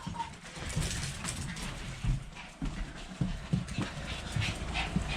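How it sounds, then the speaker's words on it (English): Dogs pant close up in short, rhythmic breathy bursts that keep going against a steady outdoor background. "Here's my dogs."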